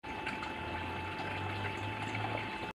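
Water pouring into an aquarium tank as it fills, a steady close rushing splash with a low pump-like hum running underneath, no voices.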